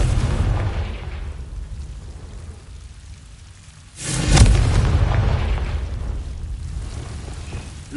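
A Confringo fire spell explodes in Hogwarts Legacy, a loud broadband blast and boom near the middle that rumbles on and fades slowly over steady ambient noise.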